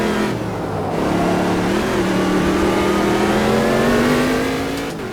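Ginetta race car engines revving hard and rising steadily in pitch as they accelerate down a straight in a racing game, a loud, sustained engine roar with no talk.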